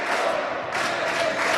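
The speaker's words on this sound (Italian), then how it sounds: "Si alza il tifo dei supporters veneti" Veneto supporters cheer and chant at a women's futsal match between Tuscany and Veneto, a brief, dense and loud crowd roar that holds steady throughout.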